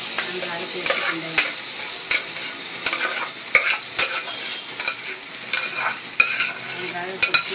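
Semolina being stirred in a pan, a steady scraping and sizzling texture with intermittent sharp clicks of the spoon against the pan, close and continuous, with no speech.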